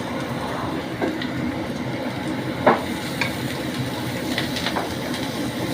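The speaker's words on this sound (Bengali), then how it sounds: "একটুখানি নাড়ানাড়ি করবো।" Stalks frying in a pan with turmeric, salt and green chili, a steady sizzle under occasional scraping stirs and a few sharp utensil knocks, no voices.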